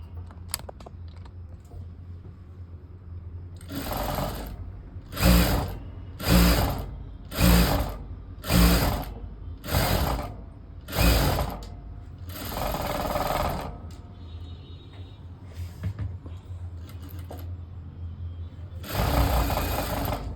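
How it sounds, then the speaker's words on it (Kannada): A sewing machine stitches thread piping onto a lined blouse sleeve in a series of loud, short motor bursts of one to two seconds each, separated by pauses, with one longer run and a final burst near the end. "ಫಸ್ಟು ನಾವು ಮೈನ್ಗೆ ಥ್ರೆಡ್ ಪೈಪಿಂಗನ್ನು ಸ್ಟಿಚ್ ಮಾಡ್ಕೊಳ್ಳೋಣ"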